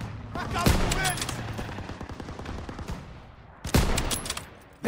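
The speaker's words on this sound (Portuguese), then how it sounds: "Fogo nas metralhadoras!" Machine gun fire crackles in rapid bursts during a Call of Duty WWII battle, dense and close, with a loud blast near the start and another later, over a constant din of combat noise.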